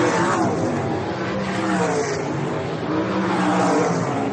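Sprint cars race around a dirt oval, a dense, loud roar of several engines revving and sweeping past without a break.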